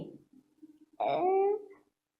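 A dog lets out one short, close whimper, a rising and falling whine lasting under a second that follows a few faint low murmurs and then fades into silence.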